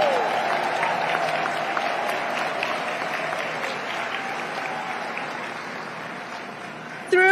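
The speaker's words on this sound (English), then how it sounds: "One more round of applause for our union siblings caring for our community." A convention audience applauds steadily for union members at a large labor union gathering, a dense, even wash of clapping that holds throughout and swells slightly at the very end.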